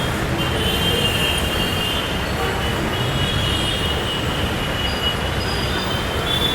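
A Hyderabad Metro train runs with a steady, loud rumble of wheels on rail and a high, sustained squeal running through the whole stretch, with no talk.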